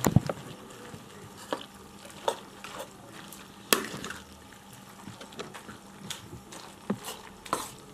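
Broth stirred into bread pieces for a fish sobat, a soft wet stirring and patter of liquid with a few sharper spoon taps against the pot, fairly close and steady, no voices.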